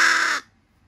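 A crow gives a single harsh caw, close and clear, cutting off abruptly into near silence.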